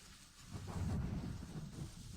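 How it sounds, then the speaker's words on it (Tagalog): Heavy rain pours in a dense, continuous roar with a deep rumbling undertone, loud and steady with no voices. "ang lakas ng ulan"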